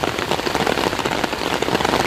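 Rain falls hard and steadily, with dense close pattering on a surface that keeps an even, continuous hiss with no pauses and no talking.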